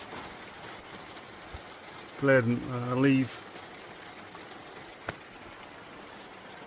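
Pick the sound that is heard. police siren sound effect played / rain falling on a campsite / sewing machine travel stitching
rain falling on a campsite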